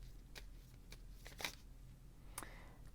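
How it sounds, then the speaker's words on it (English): Tarot cards are shuffled by hand in a quiet room, giving a few soft, brief papery riffles and flicks spaced across a few seconds, with no voices. "I'm going to shuffle again."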